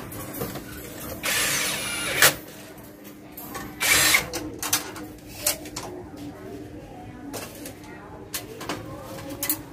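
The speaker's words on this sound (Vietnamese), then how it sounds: "còn bên kia thì phải khoan cái lỗ mới" A power drill bores a new hole for an air conditioner installation, running in a few short loud bursts between pauses. Pigeons coo nearby and people talk in the background.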